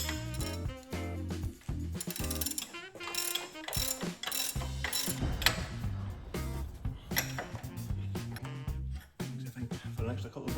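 A hand ratchet clicks in quick, close bursts as it tightens a press fitting new rear arm bushes on a BMW X5. A voice talks intermittently over the mechanical clatter.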